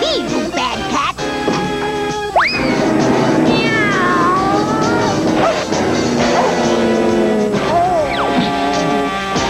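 A cartoon cat meows loudly in several drawn-out, rising and falling cries, mixed with crashes and thwacks in a busy slapstick scene.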